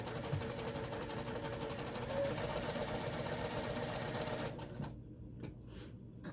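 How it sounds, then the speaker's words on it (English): A sewing machine stitching purple fabric pieces for a water bottle bag runs in a steady, dense mechanical whir for about four and a half seconds, then stops, leaving a quiet room with a few faint knocks. "I'm just sewing it together because eventually this is going to be"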